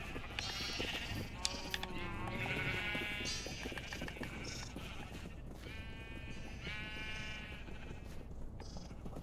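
Sheep in the Minecraft video game bleat repeatedly, several overlapping calls close by over a steady background hum, with no talking.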